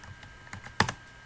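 A few keystrokes on a computer keyboard as a command is typed, light scattered taps followed by two sharper, louder clicks close to the microphone.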